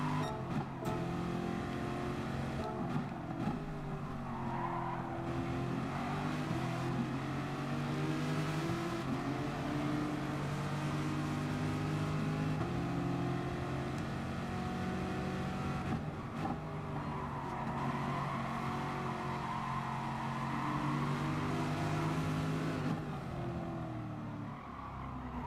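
Group 3 race cars at Interlagos in Gran Turismo Sport roar continuously, with layered engine tones rising and falling through gear changes as cars jostle and pass, at a fairly even, moderate level.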